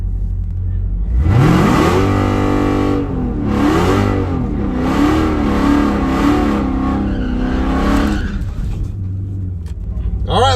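A tuned Dodge muscle car with a transmission tune on a shakedown test run roars hard off the line, its engine revving up through several gear changes in a loud, sustained burst.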